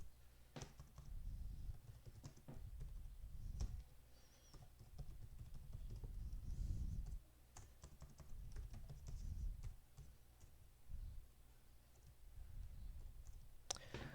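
C++ code being typed on a computer keyboard, with irregular bursts of soft key clicks and taps, close but quiet, with brief pauses between runs, no talk.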